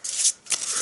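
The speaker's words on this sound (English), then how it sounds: "shuffle it." A red up-down card deck from an Arkham Horror board game being shuffled by hand, two quick riffling bursts of papery rustle separated by a brief pause, close and alone.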